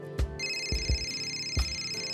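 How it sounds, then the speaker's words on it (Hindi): A mobile phone rings nearby: a tonal ringtone with repeated low thumping beats at a steady rhythm, moderately loud with no voices. "देखो फोन बज रहा है।"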